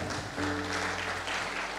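Church congregation applauding during a Sunday worship service, a steady wash of clapping with a low hum under it throughout the short stretch.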